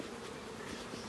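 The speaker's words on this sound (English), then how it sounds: "now we're just brushing the bees down into the hive" A honeybee swarm being brushed down into a deep hive gives off a steady, soft, close buzzing hum of many bees that runs throughout with no talk.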